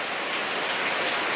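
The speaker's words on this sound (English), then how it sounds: "it starts to pour down rain." Heavy tropical rain pouring down in Bali, a dense, steady hiss of drops hitting surfaces, loud and continuous with no voices.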